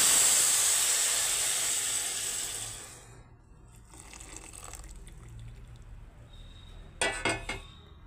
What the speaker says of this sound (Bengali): সিমাইয়ের মধ্যে এখন দুধটা আমি ঢেলে দিচ্ছি আস্তে আস্তে।